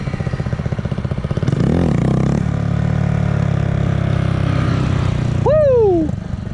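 A Honda Z125 motorcycle engine revs hard off-road, a loud steady drone that surges around two seconds and climbs to a sharp high rev near the end before dropping.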